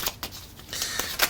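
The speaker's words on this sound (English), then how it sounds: "so they begin to shuffle in a shuffled manner" Playing cards shuffled by hand during a close-up card trick, a few quick riffling bursts of papery flutter, near and fairly faint.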